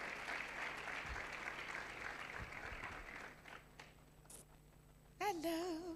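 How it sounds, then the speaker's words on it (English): Moderate audience applause greets panelists coming on stage at a youth empowerment week event, fading out after about three seconds before a person begins speaking. "Give them a round of applause"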